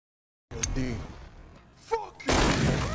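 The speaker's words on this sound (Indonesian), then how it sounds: "Dimitri langsung menodong dan menembakkan pistolnya ke Capital A." Pistol shots fired point-blank in a film scene, a sharp crack near the start followed later by a louder blast and a rumbling, noisy tail, with dramatic film sound around them.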